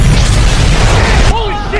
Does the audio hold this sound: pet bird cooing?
no